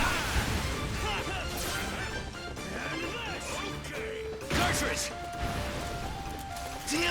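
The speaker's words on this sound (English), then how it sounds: "Look at that big old explosion radius." A big explosion goes off in Earth Defense Force: World Brothers, with crashing and smashing bursts and debris amid game noise, partly under a talking voice.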